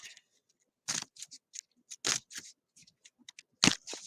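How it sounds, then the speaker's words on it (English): A Pokémon trading card deck is shuffled on a table, a series of brief, crisp riffling and snapping bursts separated by short silences, close and fairly quiet. "shuffle, shuffle."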